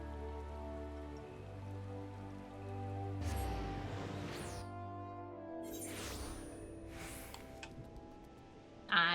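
Rain in the game Final Fantasy 14, a soft steady patter of drops on surfaces with a light ticking texture, fairly quiet throughout and joined by a few brief brighter rustling bursts, with no talking.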